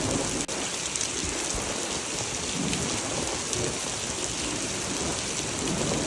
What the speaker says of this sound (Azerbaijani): Bu gözəl mənzərəyi yağış səsində izləməyinizi tövsiyə edirəm.